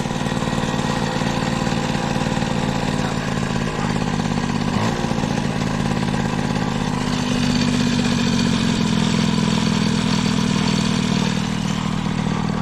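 A moped engine idling close up, a loud, steady mechanical putter with rattling clatter that runs unbroken throughout, the pitch dipping slightly partway through.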